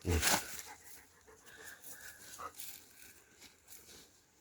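A dog pants quickly and softly nearby, with a sharp rustle at the start and faint whimpering breaths.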